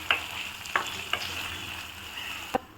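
Chicken sizzles in hot oil and masala for a white chicken korma, a steady close frying hiss broken by a few sharp stirring scrapes and spits, with no talking.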